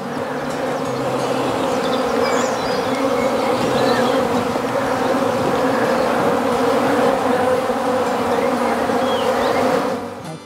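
Honeybees from a nuc buzz continuously around the entrance of their new hive, a dense, steady swarm hum that stays close and loud throughout, with no voices.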